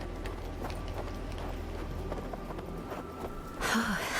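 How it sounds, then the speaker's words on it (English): Horses' hooves clip-clopping in the Wild West video game Hard West 2, a fairly even rhythmic run of soft hoofbeats over a low steady background, ending in a brief louder burst of game sound. "Lucky we found these horses."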